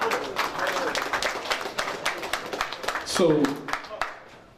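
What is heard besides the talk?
audience applause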